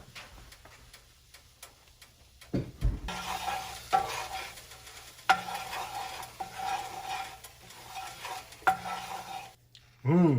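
A roux of equal parts fat and flour, using flour left from dredging steaks, heats in a pan for country gravy. Soft sizzling runs under clinks and scrapes of a stirring utensil against the pan, close and fairly quiet, with no voices.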